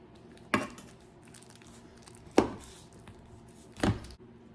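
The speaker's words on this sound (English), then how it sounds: "I'm just gonna cut it into little pieces so that it like could cook more evenly and better" A knife chopping chorizo into little pieces on a board, three sharp separate thuds spaced a second or two apart over a quiet background, no talking.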